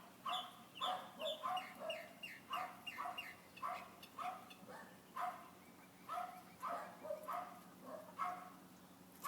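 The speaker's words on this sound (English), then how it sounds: "The neighbor must have company again today. The dogs are out." The neighbour's dogs bark in a long run of short yelps, repeated steadily and heard faintly from some distance.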